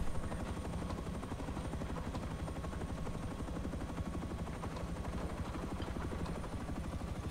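An attack helicopter in a multiplayer video game drones with steady rotor chop throughout, overlaid by dense bursts of gunfire close by and loud.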